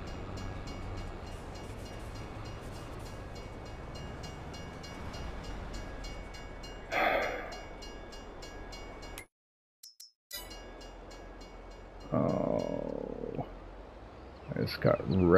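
A train in the Farming Simulator 22 game rumbles past and slams into a vehicle, a steady rail roar broken by a sudden crash and brief dropouts, with a player talking over it.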